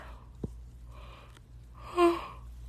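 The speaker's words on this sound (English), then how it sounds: "I want to say more, but I can't stop yawning" A person's yawn swells near the end, a drawn-out breathy exhale following a short catch of breath, close and quiet, with no talking.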